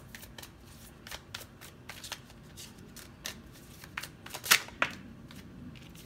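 Tarot cards are shuffled close by in a quiet room, a run of quick riffling flutters and soft snaps that build to a few sharper card slaps, with no talking.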